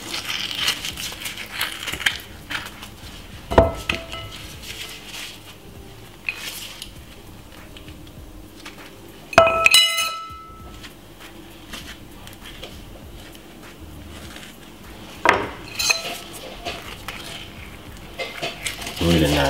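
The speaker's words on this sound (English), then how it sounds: "So we're gonna use a spoon to scrape out the avocado." A metal spoon scrapes the flesh out of an avocado in a Caribbean home kitchen, giving three separate sharp scraping bursts spaced several seconds apart over a quiet background of light clatter.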